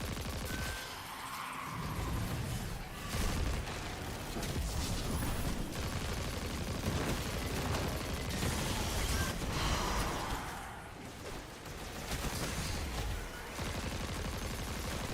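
Sustained auto rifle gunfire in the sci-fi shooter Destiny 2, a dense rapid stream of shots with brief pauses between bursts, loud amid busy combat noise.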